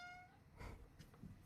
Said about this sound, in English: I love hearing the cat in the background too.